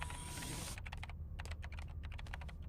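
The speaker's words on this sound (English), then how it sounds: "You're typing awful slow there, Rao." Fast typing on a computer keyboard in an anime scene, a quick run of crisp key clicks close by, heard alone after a brief burst of noise.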